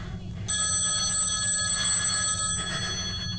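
A telephone bell rings during a school stage drama, a steady bright ring lasting about two seconds over low room rumble and faint background murmur.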